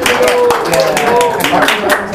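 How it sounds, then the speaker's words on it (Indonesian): An audience at a local music show claps along, rhythmic hand claps mixed with voices and a sustained tone, fairly loud and close, with talk over the clapping. "Tepuk tangan dulu dong."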